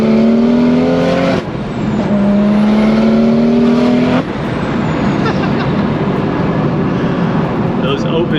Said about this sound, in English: Those open dumps do be dumping.